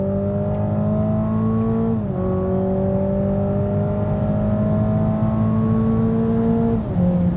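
A 2020 Toyota Supra with the 2.0-litre four-cylinder pulls hard on a racetrack in sport mode, its engine note climbing steadily through the gears with quick dips at each upshift, loud and continuous with no talking.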